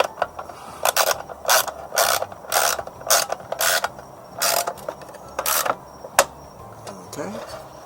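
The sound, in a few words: socket ratchet tightening plenum bolts on 2002 Ford F-250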